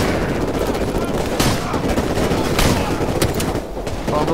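Rapid bursts of gunfire in Call of Duty: Modern Warfare Remastered crackle continuously, with a few sharper louder shots standing out against dense background noise.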